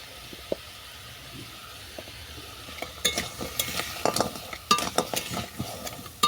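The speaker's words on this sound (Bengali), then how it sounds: "মশলা দিয়ে কাঁকড়াটাকে ভালো করে কষিয়ে নিচ্ছি" Crab frying with salt, turmeric and spices in a pan, a quiet sizzle at first, then busy stirring scrapes and clatters, close and uneven, growing louder in the second half.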